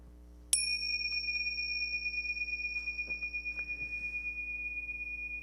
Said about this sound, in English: I'm going to ring the bell, and we're just going to listen to it.